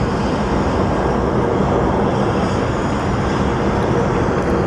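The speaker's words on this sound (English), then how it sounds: "And here we have our SkyWest flight going to LAX." A SkyWest airliner taxis at Sky Harbor airport, its jet engines producing a steady, loud broadband roar that holds even and unbroken throughout.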